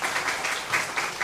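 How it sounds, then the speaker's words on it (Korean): Congregation applause during a Sunday morning church service, a steady, moderately loud wash of many hands clapping with a few stronger bursts, with no talk over it. "박수 한번 칠까요?"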